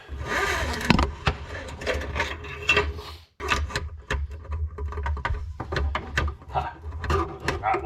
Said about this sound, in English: I'm going to pull the hose out.